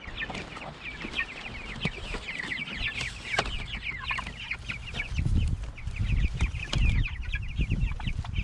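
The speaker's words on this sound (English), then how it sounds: "Look at them chickens, they're loving it." Pasture chickens cluck steadily in a busy, continuous flock chorus, with occasional louder calls and some low rustling and handling noise closer by.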